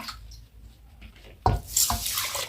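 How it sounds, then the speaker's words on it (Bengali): Rice rinsed in water before cooking khichuri, with a soft rush of tap water and sloshing, splashing handling in a pot, close and fairly quiet. "তো চালটা প্রথমে আমি একটু ধুয়ে নিই"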